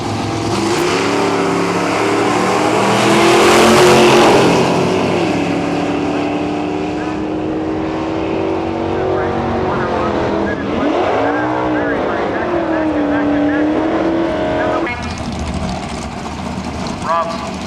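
Drag race cars, including a 1963 Chevy II, accelerate hard down the strip at a nostalgia drag meet in Cayuga, Ontario, a loud sustained engine roar with rising and falling pitch sweeps as they pass, under an announcer's commentary.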